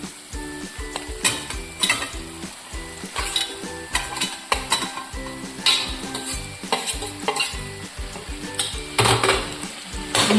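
Spoon scraping and clanking against a pan while mashed boiled potatoes are stirred into masala, a busy irregular rhythm of close metallic knocks over a soft sizzle, without talk.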